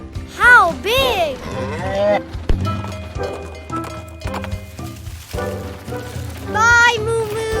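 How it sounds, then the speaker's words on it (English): Cartoon cow mooing in a children's animated show about a toy train, sounding between bright musical score and sing-song animated voices, with several drawn-out lowing calls near the start and again near the end. "Big cow!"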